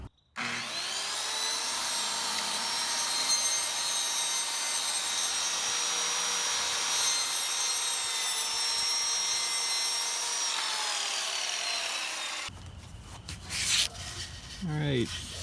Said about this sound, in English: The first Skilsaw cut we'll make is with the regular framing blade that's in here.